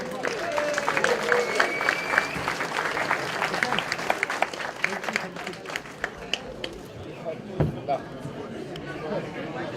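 A crowd at a homeless dinner event bursts into sustained applause and cheering for a raffle winner, clapping dense at first and then thinning into scattered claps amid chatter.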